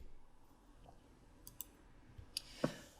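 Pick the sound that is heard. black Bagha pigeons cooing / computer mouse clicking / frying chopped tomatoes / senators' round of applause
computer mouse clicking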